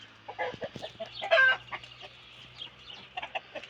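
Hens and roosters cluck and chatter nearby in a busy coop of about thirty birds, with short squawks and one sharper call standing out.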